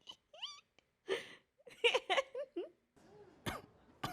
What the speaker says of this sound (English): You do keep coughing.